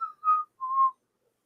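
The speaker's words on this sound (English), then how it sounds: "Who's whistling?" Someone whistles two short clear notes, the first slightly higher and wavering, the second steady, close by and alone in silence.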